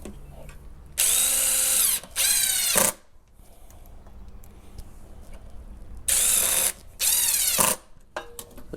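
A power drill drives T25 screws into a handrail post, whirring in four loud bursts that rev up and wind down, with quiet gaps between them.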